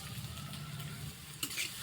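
Chopped garlic fries in hot oil with onions in a pan, a steady close sizzle with a faint clink near the end.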